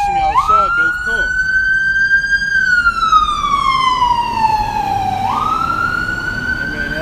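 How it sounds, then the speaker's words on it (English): An ambulance siren near Cape Fear Valley Hospital sweeps loudly up and down in long wails as it passes, rising, falling slowly, then jumping up again over steady traffic and background noise. "that was an ambulance for the Cape Fear Valley Hospital"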